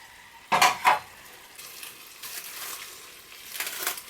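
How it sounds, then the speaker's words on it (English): A pan being moved to the back of a stovetop while shrimp cooks, giving two quick close metallic clanks of pan on grate, then faint scraping and a soft clatter near the end. "Let's go ahead and move this other pan to the back."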